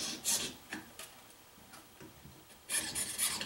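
A saw blade cuts through pearl for a guitar inlay with faint, quick, rhythmic rasping strokes that cluster in short bursts and grow brisker near the end.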